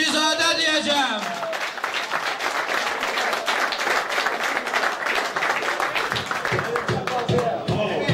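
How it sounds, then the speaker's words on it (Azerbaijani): Loud applause from a concert audience fills the clip in a dense, continuous patter of many hands, after a sung or called-out voice at the start and with sharper rhythmic claps toward the end. "İndi çəkəcəyim addan sonra bu gecənin ən gürültülü alqışları gəlməlidir."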